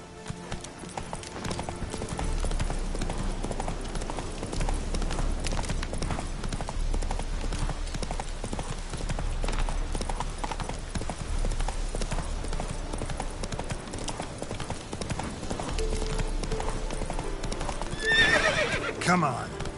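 Horse galloping in The Witcher 3, steady rapid clip-clopping hooves with occasional whinnies over game ambience, continuous for about twenty seconds, with a voice briefly heard at times.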